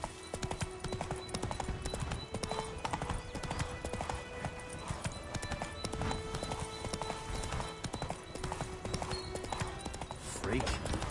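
Roach, the horse in the video game Witcher 3, clip-clops steadily at a walking pace for the whole stretch, hooves close and continuous, with game voices and ambience mixed in underneath.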